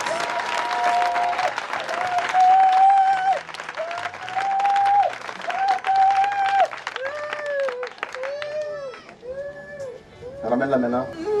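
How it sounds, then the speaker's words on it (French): A church congregation bursts into loud, sustained applause and cheering during a worship service, clapping steadily under a preacher's voice and sustained keyboard or organ chords, swelling and fading in waves. "Est-ce que quelqu'un peut donner une forte acclamation à Dieu?"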